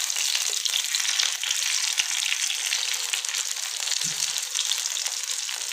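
Potato and rice chapli kebabs frying golden in hot oil in a pan, a loud, dense, continuous crackling sizzle close by, with a brief low bubble midway.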